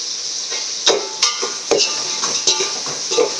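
Tomato masala with salt being stirred in a pan for prawn biryani, repeated metallic clinks and scrapes of a spoon against the pan over a light sizzle, close up with no talking.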